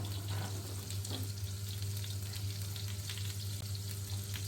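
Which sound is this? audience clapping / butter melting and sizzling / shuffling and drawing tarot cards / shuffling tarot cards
butter melting and sizzling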